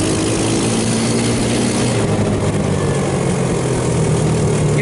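Hammerhead off-road go-kart ATV engine running loud and close, a steady low motor drone with rough mechanical buzz throughout.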